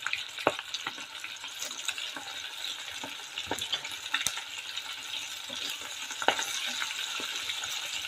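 Food fries in hot oil with a continuous crackling sizzle, broken by sharp pops and splatters at irregular intervals, close and fairly loud with no talking.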